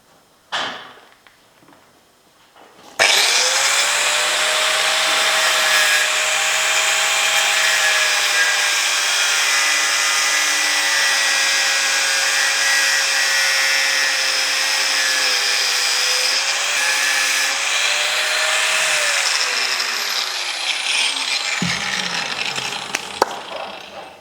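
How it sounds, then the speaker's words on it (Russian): Power saw cutting along the lower edge of the crimped rim on a Toyota Land Cruiser Prado 150 KDSS unit: a sharp start, then about twenty seconds of steady, loud whining cut with rubbing grit, stopping abruptly, with no talk. "Вот по нижнему краю завальцовки мы, собственно, и будем пилить."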